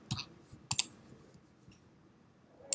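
Sharp mouse clicks sound at a computer while working in Roblox Studio, a few quick close taps with quiet gaps between them and one final click.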